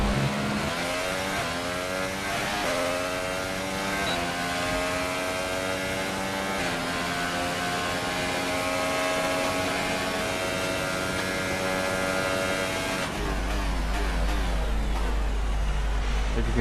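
Race car engine from the F1 2018 video game on a qualifying flying lap, a loud continuous high-pitched whine with rising and falling pitch as gears change, running alone, then abruptly cutting to a different lower engine tone near the end.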